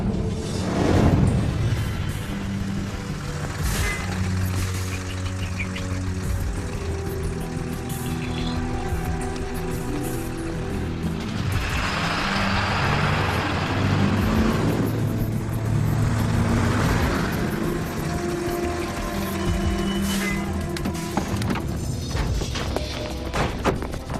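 A truck drives with a continuous loud engine rumble and road noise, swelling and easing at times, close by and with no talk over it.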